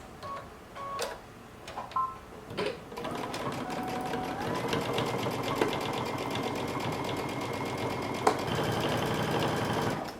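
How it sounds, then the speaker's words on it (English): A sewing machine runs steadily, stitching a 5/8-inch seam up a mustard sweater from hem toward collar through all layers, after a few short handling knocks at the start; a rapid, continuous mechanical chatter holds close and even to the end. "starting at the hem, we're going to sew all the way up, using 5/8 of an inch seam allowance"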